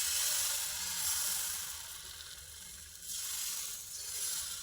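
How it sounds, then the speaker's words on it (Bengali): Batter poured into an oiled pan for carrot halwa patishapta sizzles in a steady, soft, hissing wash up close, with faint shifts as it spreads and no voices. "গুলে রাখা ব্যাটারটা দিয়ে দিচ্ছি।"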